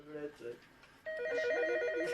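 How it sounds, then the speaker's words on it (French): Telephone in an antique bookshop rings with a steady electronic trill that starts abruptly partway through and continues loud to the end, following brief speech at the start. "Le téléphone sonne sans arrêt."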